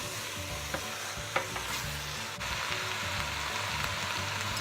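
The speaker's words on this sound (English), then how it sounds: "Keep stirring." Beef rendang in coconut milk is stirred steadily in a pot, a soft continuous sizzle and bubbling with a few light scrapes and clinks of the spoon, close and moderately quiet, no talking.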